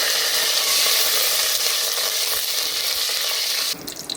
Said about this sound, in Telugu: పచ్చిమిర్చి, గరం మసాలా థింగ్స్ వేసుకొని వేయించుకుందాం.